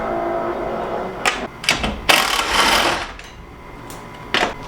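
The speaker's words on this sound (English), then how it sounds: "we're going to undo the two bolts that hold the passenger side of the shroud" Bolts come off the fan shroud of a Jeep TJ in several loud, close bursts of rapid mechanical whirring and clicking from a tool, separated by short pauses, with one final burst near the end.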